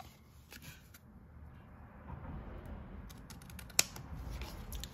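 Scissors trimming the edge of paper for a Gelli-printed journal cover: quiet, close snipping with one sharper cut near the end, over a soft room background.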